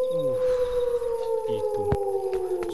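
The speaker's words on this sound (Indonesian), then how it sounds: "suara serigala menggonggong di malam hari itu" A long mournful wolf howl at night in a Halloween-town video game, rising and slowly falling in pitch, with game sounds and a brief voice beneath it.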